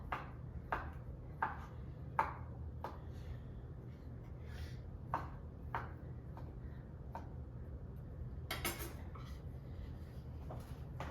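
A knife roughly chops lean white rotisserie chicken breast, giving a string of irregular, fairly close knocks with short pauses between them over a steady low background hum, and no voices.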